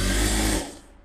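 A sewing machine runs a rough tacking stitch, a fast buzzing whir that is loud and close for a moment, then cuts off and fades into quiet.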